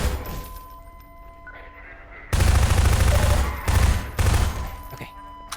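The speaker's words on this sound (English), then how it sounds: "I have to use the SMG" Submachine gun fire in Half-Life 2 erupts in loud, dense automatic bursts after a quieter stretch of game ambience, with a short gap between two of the volleys.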